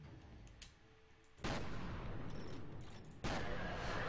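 Two sudden heavy blasts from a grenade explosion in the shooter game F.E.A.R., each a sharp boom followed by a dense rumbling tail, close and loud.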